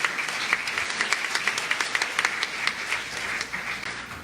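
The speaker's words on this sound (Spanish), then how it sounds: "Démosle un gran aplauso" An audience at an international law conference on child restitution applauds, a moderate room of clapping with distinct individual claps standing out, fairly steady then tapering slightly.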